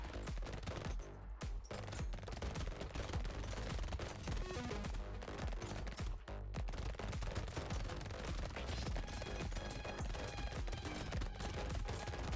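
Rapid automatic SMG fire from the video game Brotato, a dense, continuous stream of shots with bursts of game effects layered over it, loud and steady with only a couple of brief gaps.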